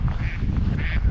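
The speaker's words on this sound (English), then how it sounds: "Quack, quack, quack." Two nasal duck quacks close by on the River Lochy in Scotland, a short pause between them, over a low background rumble.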